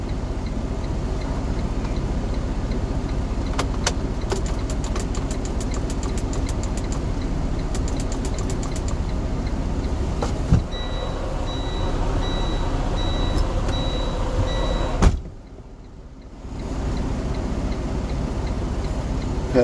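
A truck idles near a gate with a steady engine drone, a quick run of ticking clicks and then a repeating electronic beep, before a brief thump and a short quieter stretch.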